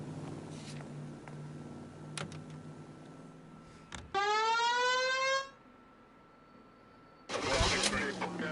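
A car engine starts in a video game, a rising whine that climbs steadily in pitch for about a second, amid other game sounds and a later burst of loud noise.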